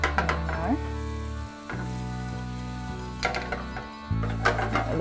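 Red wine sizzles and bubbles as it cooks off in a hot pan with beef, a steady close frying hiss broken by a few stirring scrapes and short pauses.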